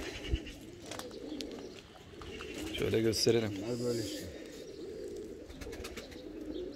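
Van pigeons cooing at a loft, with a brief swell of cooing in the middle, under men chatting nearby.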